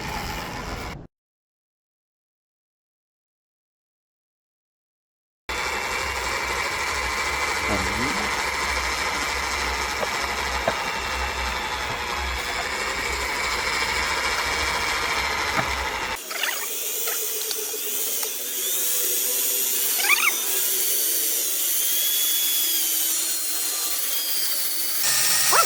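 A power mixer stirs epoxy component A with a steady, loud mechanical whir. The sound cuts out briefly near the start, then runs continuously, its tone shifting partway through.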